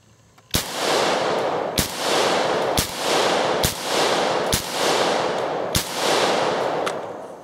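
An AR-15 rifle firing steel case ammo at targets outdoors, six loud sharp shots at a steady unhurried pace, each trailing off in a long echoing boom.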